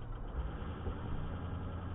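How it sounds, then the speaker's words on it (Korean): A Land Rover engine idles with a steady, dense low rumble and rough mechanical texture, close and continuous throughout, with no voices over it. "시동 끄라고 아빠 제발 시동 끄라고"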